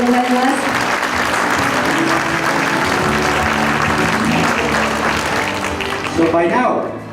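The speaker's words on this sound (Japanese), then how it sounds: "総合優勝3位に輝いたロシアチームに大きな拍手をお願いいたします" Sustained applause from an awards ceremony audience at the World Puzzle Championship 2017, honoring the third-place team, dense and steady throughout with music underneath and a brief swell near the end.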